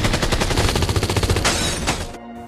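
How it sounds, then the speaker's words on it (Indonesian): Sustained rapid gunfire from cartel gunmen in an action film scene, dense overlapping shots and bursts that continue without a break before cutting off abruptly. "Kini hanya tersisa Mauricio serta satu anak buahnya yang terus menembaki Jim"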